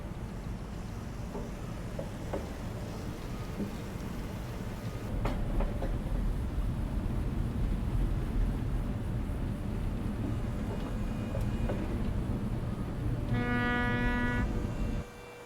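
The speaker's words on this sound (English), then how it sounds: "And I just heard the train in the distance" Distant train in American Truck Simulator, a low steady rumble with faint clicks beneath truck engine noise, ending in a sustained horn blast near the end.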